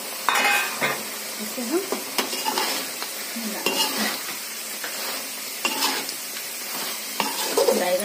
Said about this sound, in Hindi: अब हम इसमें ये बैगन को डाल देते